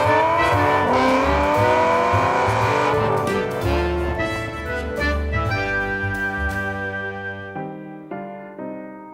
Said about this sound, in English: That is a Saab 99.